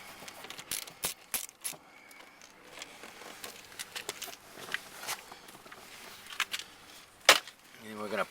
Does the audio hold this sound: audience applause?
no